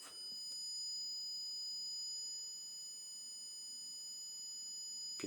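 A steady high-pitched electronic alarm tone rings continuously, unchanging in pitch, over faint room noise.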